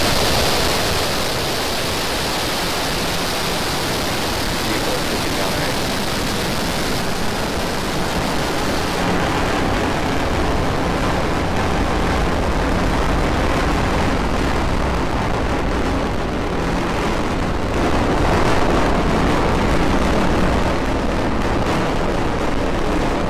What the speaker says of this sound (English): Ignition, liftoff of Falcon 9 and Starlink Ocho.